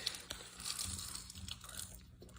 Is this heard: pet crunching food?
yes